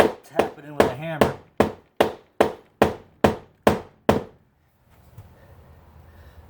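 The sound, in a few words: hammer tapping an anchor into a door jamb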